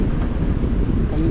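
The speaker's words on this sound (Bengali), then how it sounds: "খালি গরম হাওয়া দিচ্ছে।" Hot wind blowing along a street in Dubai's Gold Souk district in the morning, a dense low rumbling roar buffeting the microphone continuously and loudly.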